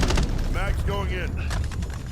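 Rifle magazine swapped during a Call of Duty Modern Warfare multiplayer beta match, short metallic clicks and clacks amid ongoing battle noise, with an in-game voice speaking over the middle of the action.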